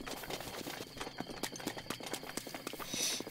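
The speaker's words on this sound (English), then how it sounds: "there's some horses around" Horses' hooves clip-clop in a quick, steady run in Zelda Breath of the Wild, fairly close and loud, with game ambience behind them.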